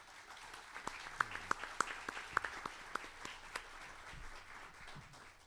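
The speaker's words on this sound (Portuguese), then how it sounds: "mas aplaudir o conferencista Arnaldo Nisqueira." An audience at a Brazilian Academy of Letters lecture breaks into applause, scattered sharp claps over a steady patter, moderately distant and without talk.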